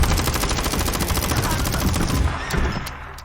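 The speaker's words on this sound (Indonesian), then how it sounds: "Tanpa berpikir panjang, Menel langsung menembak zombie-zombie tersebut." Rapid automatic gunfire aimed at zombies in a film, a loud, dense stream of shots that rattles on continuously and then tapers off.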